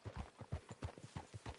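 Horse hooves clip-clop in Red Dead Redemption 2, a faint, even walking rhythm of about a dozen soft thuds with no talk.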